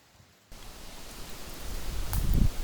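Wind gusting at a forest house after a moment of quiet, a broad rushing noise that builds and grows louder toward the end.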